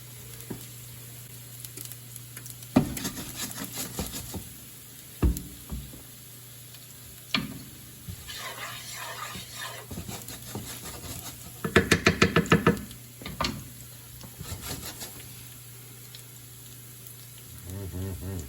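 Breadcrumbs sizzling with garlic in a pan, a soft constant frying hiss broken by stirring scrapes, clacks of a utensil and louder crackling bursts, with occasional voices in the kitchen.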